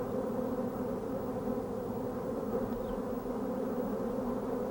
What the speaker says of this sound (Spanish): En estos momentos están naciendo una gran cantidad de abejas